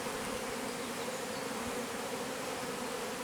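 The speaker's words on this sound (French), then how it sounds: "Donc, il y a beaucoup d'abeilles qui volent." A swarm of honey bees buzzes around a tree, giving a dense, continuous drone that holds steady and fairly loud, with no voices.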